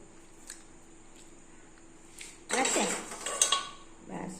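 A ladle scoops freshly made popcorn out of a pot in a home kitchen, giving a short burst of scraping, rustling clatter against the metal after a quiet stretch, then a softer second scoop.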